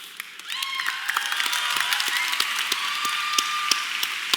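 Audience applause at a Gearbox Software convention panel at PAX Prime 2015, a dense steady patter of clapping from a crowd that swells after a brief lull and holds through the moment, with scattered sharper claps.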